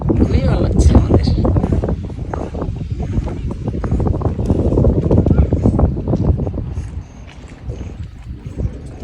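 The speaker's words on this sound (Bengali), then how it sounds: "ভীষণ সুন্দর একটা ঠান্ডা বাতাস" Cold wind gusts across the Jamuna riverbank, buffeting the microphone with loud, rumbling bursts that rise and fall, while voices talk over it.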